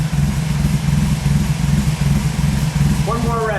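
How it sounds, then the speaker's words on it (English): A 1965 Maserati OSCA 1600 GTZ Zagato engine runs loud and close with a steady, throaty mid-low drone that climbs briefly near the end, and a voice comes in over it. "Give her one more rev, John."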